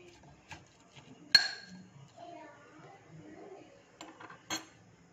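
Lemon pickle being moved into a jar, with soft clinks and a couple of sharp knocks of a spoon against glass, spaced out over quiet kitchen background.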